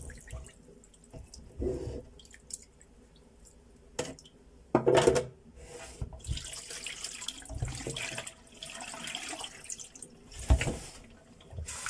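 Tap water runs and splashes into a bowl while rinsing rice in intermittent bursts, with small clinks of a pot and drips between, no one speaking.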